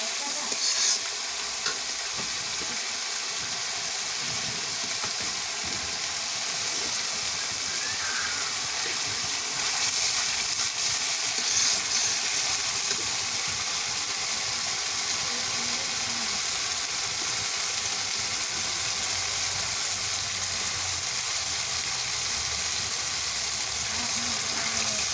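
Spices sauté in a hot frying pan with a steady, close sizzle throughout, broken by frequent scraping stirs, with no talk over the cooking.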